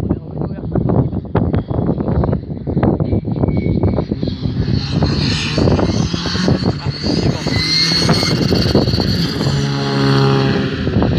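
A Skoda R5 rally car's turbo blows off air in loud hissing discharges over a hard-working engine note heard up close from inside, with rising whooshes and whistles layered above the throbbing engine.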